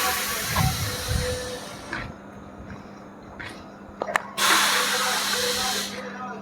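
Train standing at a station platform, later running as the Rani Chennamma Express from Bangalore to Sangli, with a steady low hum, brief hissing bursts and a loud sustained hiss of air or steam near the end.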